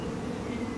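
Honey bees buzz steadily and close up at a hive being cut out of a flower pot, a dense continuous hum with no talking.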